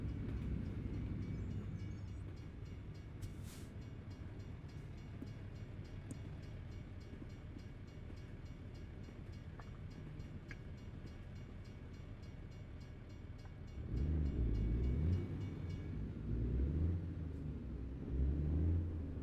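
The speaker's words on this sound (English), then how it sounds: "Train." A train passing near a truck, a steady low rumble and rolling rail noise that swells louder and heavier toward the end.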